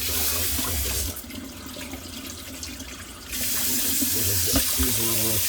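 Tap water runs steadily and splashes while an old flower vase is rinsed. The flow softens and thins for a couple of seconds before surging back to a full, loud stream.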